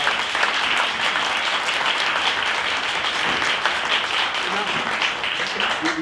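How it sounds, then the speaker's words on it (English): An audience at a book launch claps in a loud, dense round of applause that stays steady and close throughout, with many hands blending into an even roar. "Another round of applause."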